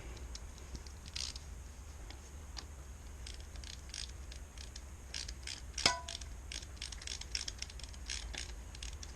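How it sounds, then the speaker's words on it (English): A small ratchet wrench works a nut on the front end of a 1987 CR 250 motorcycle, its fast clicking bursts coming close and steady over a constant low hum, with one sharper clank partway through. "Not sure if this little ratchet's going to be man enough for this."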